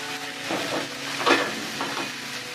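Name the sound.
onions sizzling in oil in a pan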